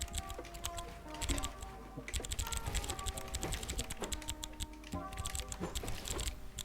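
A computer keyboard clatters in rapid, continuous typing, with dense overlapping key clicks close up and steady for the whole stretch, heard alone without talk.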